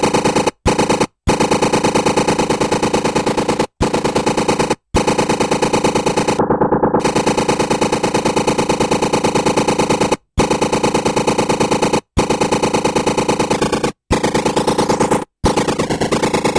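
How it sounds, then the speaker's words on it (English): A sample processed with sample rate reduction gives a harsh, gritty digital texture, sounding as dense rapid-fire bursts broken by several short silent gaps, loud and continuous with no voices. "what would it sound like with some sample rate reduction"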